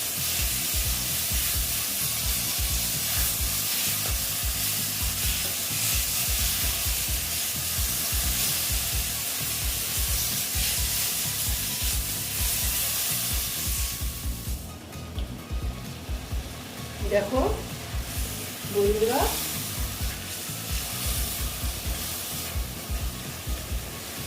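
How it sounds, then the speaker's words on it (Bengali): Fish roe frying in a pan with Kashmiri red chilli powder, a loud continuous sizzle with busy stirring scrapes. It later drops to a quieter crackle broken by a few short squeaks. "তারপর কালারের জন্য দিচ্ছি কাশ্মীরি লাল লঙ্কার গুঁড়ো দিয়ে আমি ভালো মতো এটা কষিয়ে নেবো"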